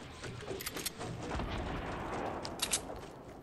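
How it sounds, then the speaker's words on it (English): Rocket fire in a Fortnite match: distant booms and bursts over a noisy rumbling game background, faint and indistinct, with a couple of sharper pops near the end. "I hear rockets, though."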